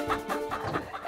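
A chicken on a farmyard clucks in a quick series of short, close bursts, several clucks packed into about a second.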